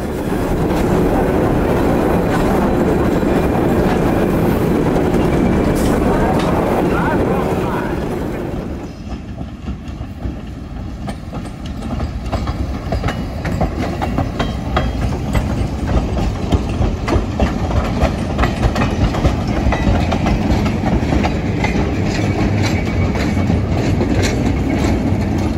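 A museum train setting railroad cars back onto the main line with a caboose, a loud rumbling engine and rolling cars that ease off briefly, then clatter and creak steadily onward at close range.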